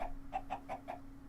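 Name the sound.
Iron Chicken clucking in the video game Sky Factory 3 (Minecraft)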